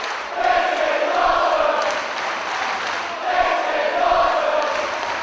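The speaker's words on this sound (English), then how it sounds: "Trent Acid and Pac elicit our first "This is awesome" chant from the Liverpool Olympia crowd." A wrestling crowd at Liverpool Olympia chants in unison during a Pac versus Trent Acid match, two loud rhythmic chant phrases rising and repeating from a packed hall, with no commentary over them.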